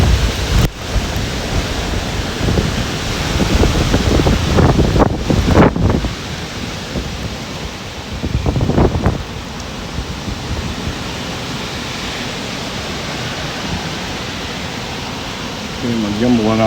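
Hurricane Ida's gusting wind and rain in New Orleans roar loudly and continuously, buffeting the microphone with heavy rushing noise and a few sharp thumps, with a voice briefly under the storm.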